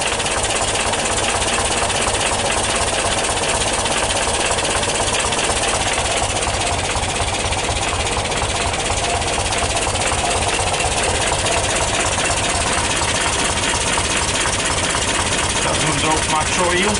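The air-cooled engine of a 1977 VW T2 Kombi camper idles after a cold start, a steady, loud, close rhythmic chugging with a faint tappety knock, running evenly under occasional talk.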